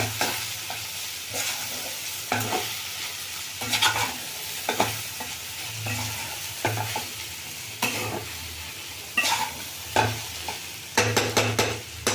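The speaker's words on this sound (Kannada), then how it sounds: "ನೋಡಿ, ಈಗ ಚೆಂದಾಗಿ ಫ್ರೈ ಆಗಿದೆ, ಈರುಳ್ಳಿನೂ ಫ್ರೈ ಆಗಿದೆ" Okra and onion frying in a pan with spice powder: soft steady sizzling under repeated scraping and stirring strokes from a spoon, close and moderately quiet.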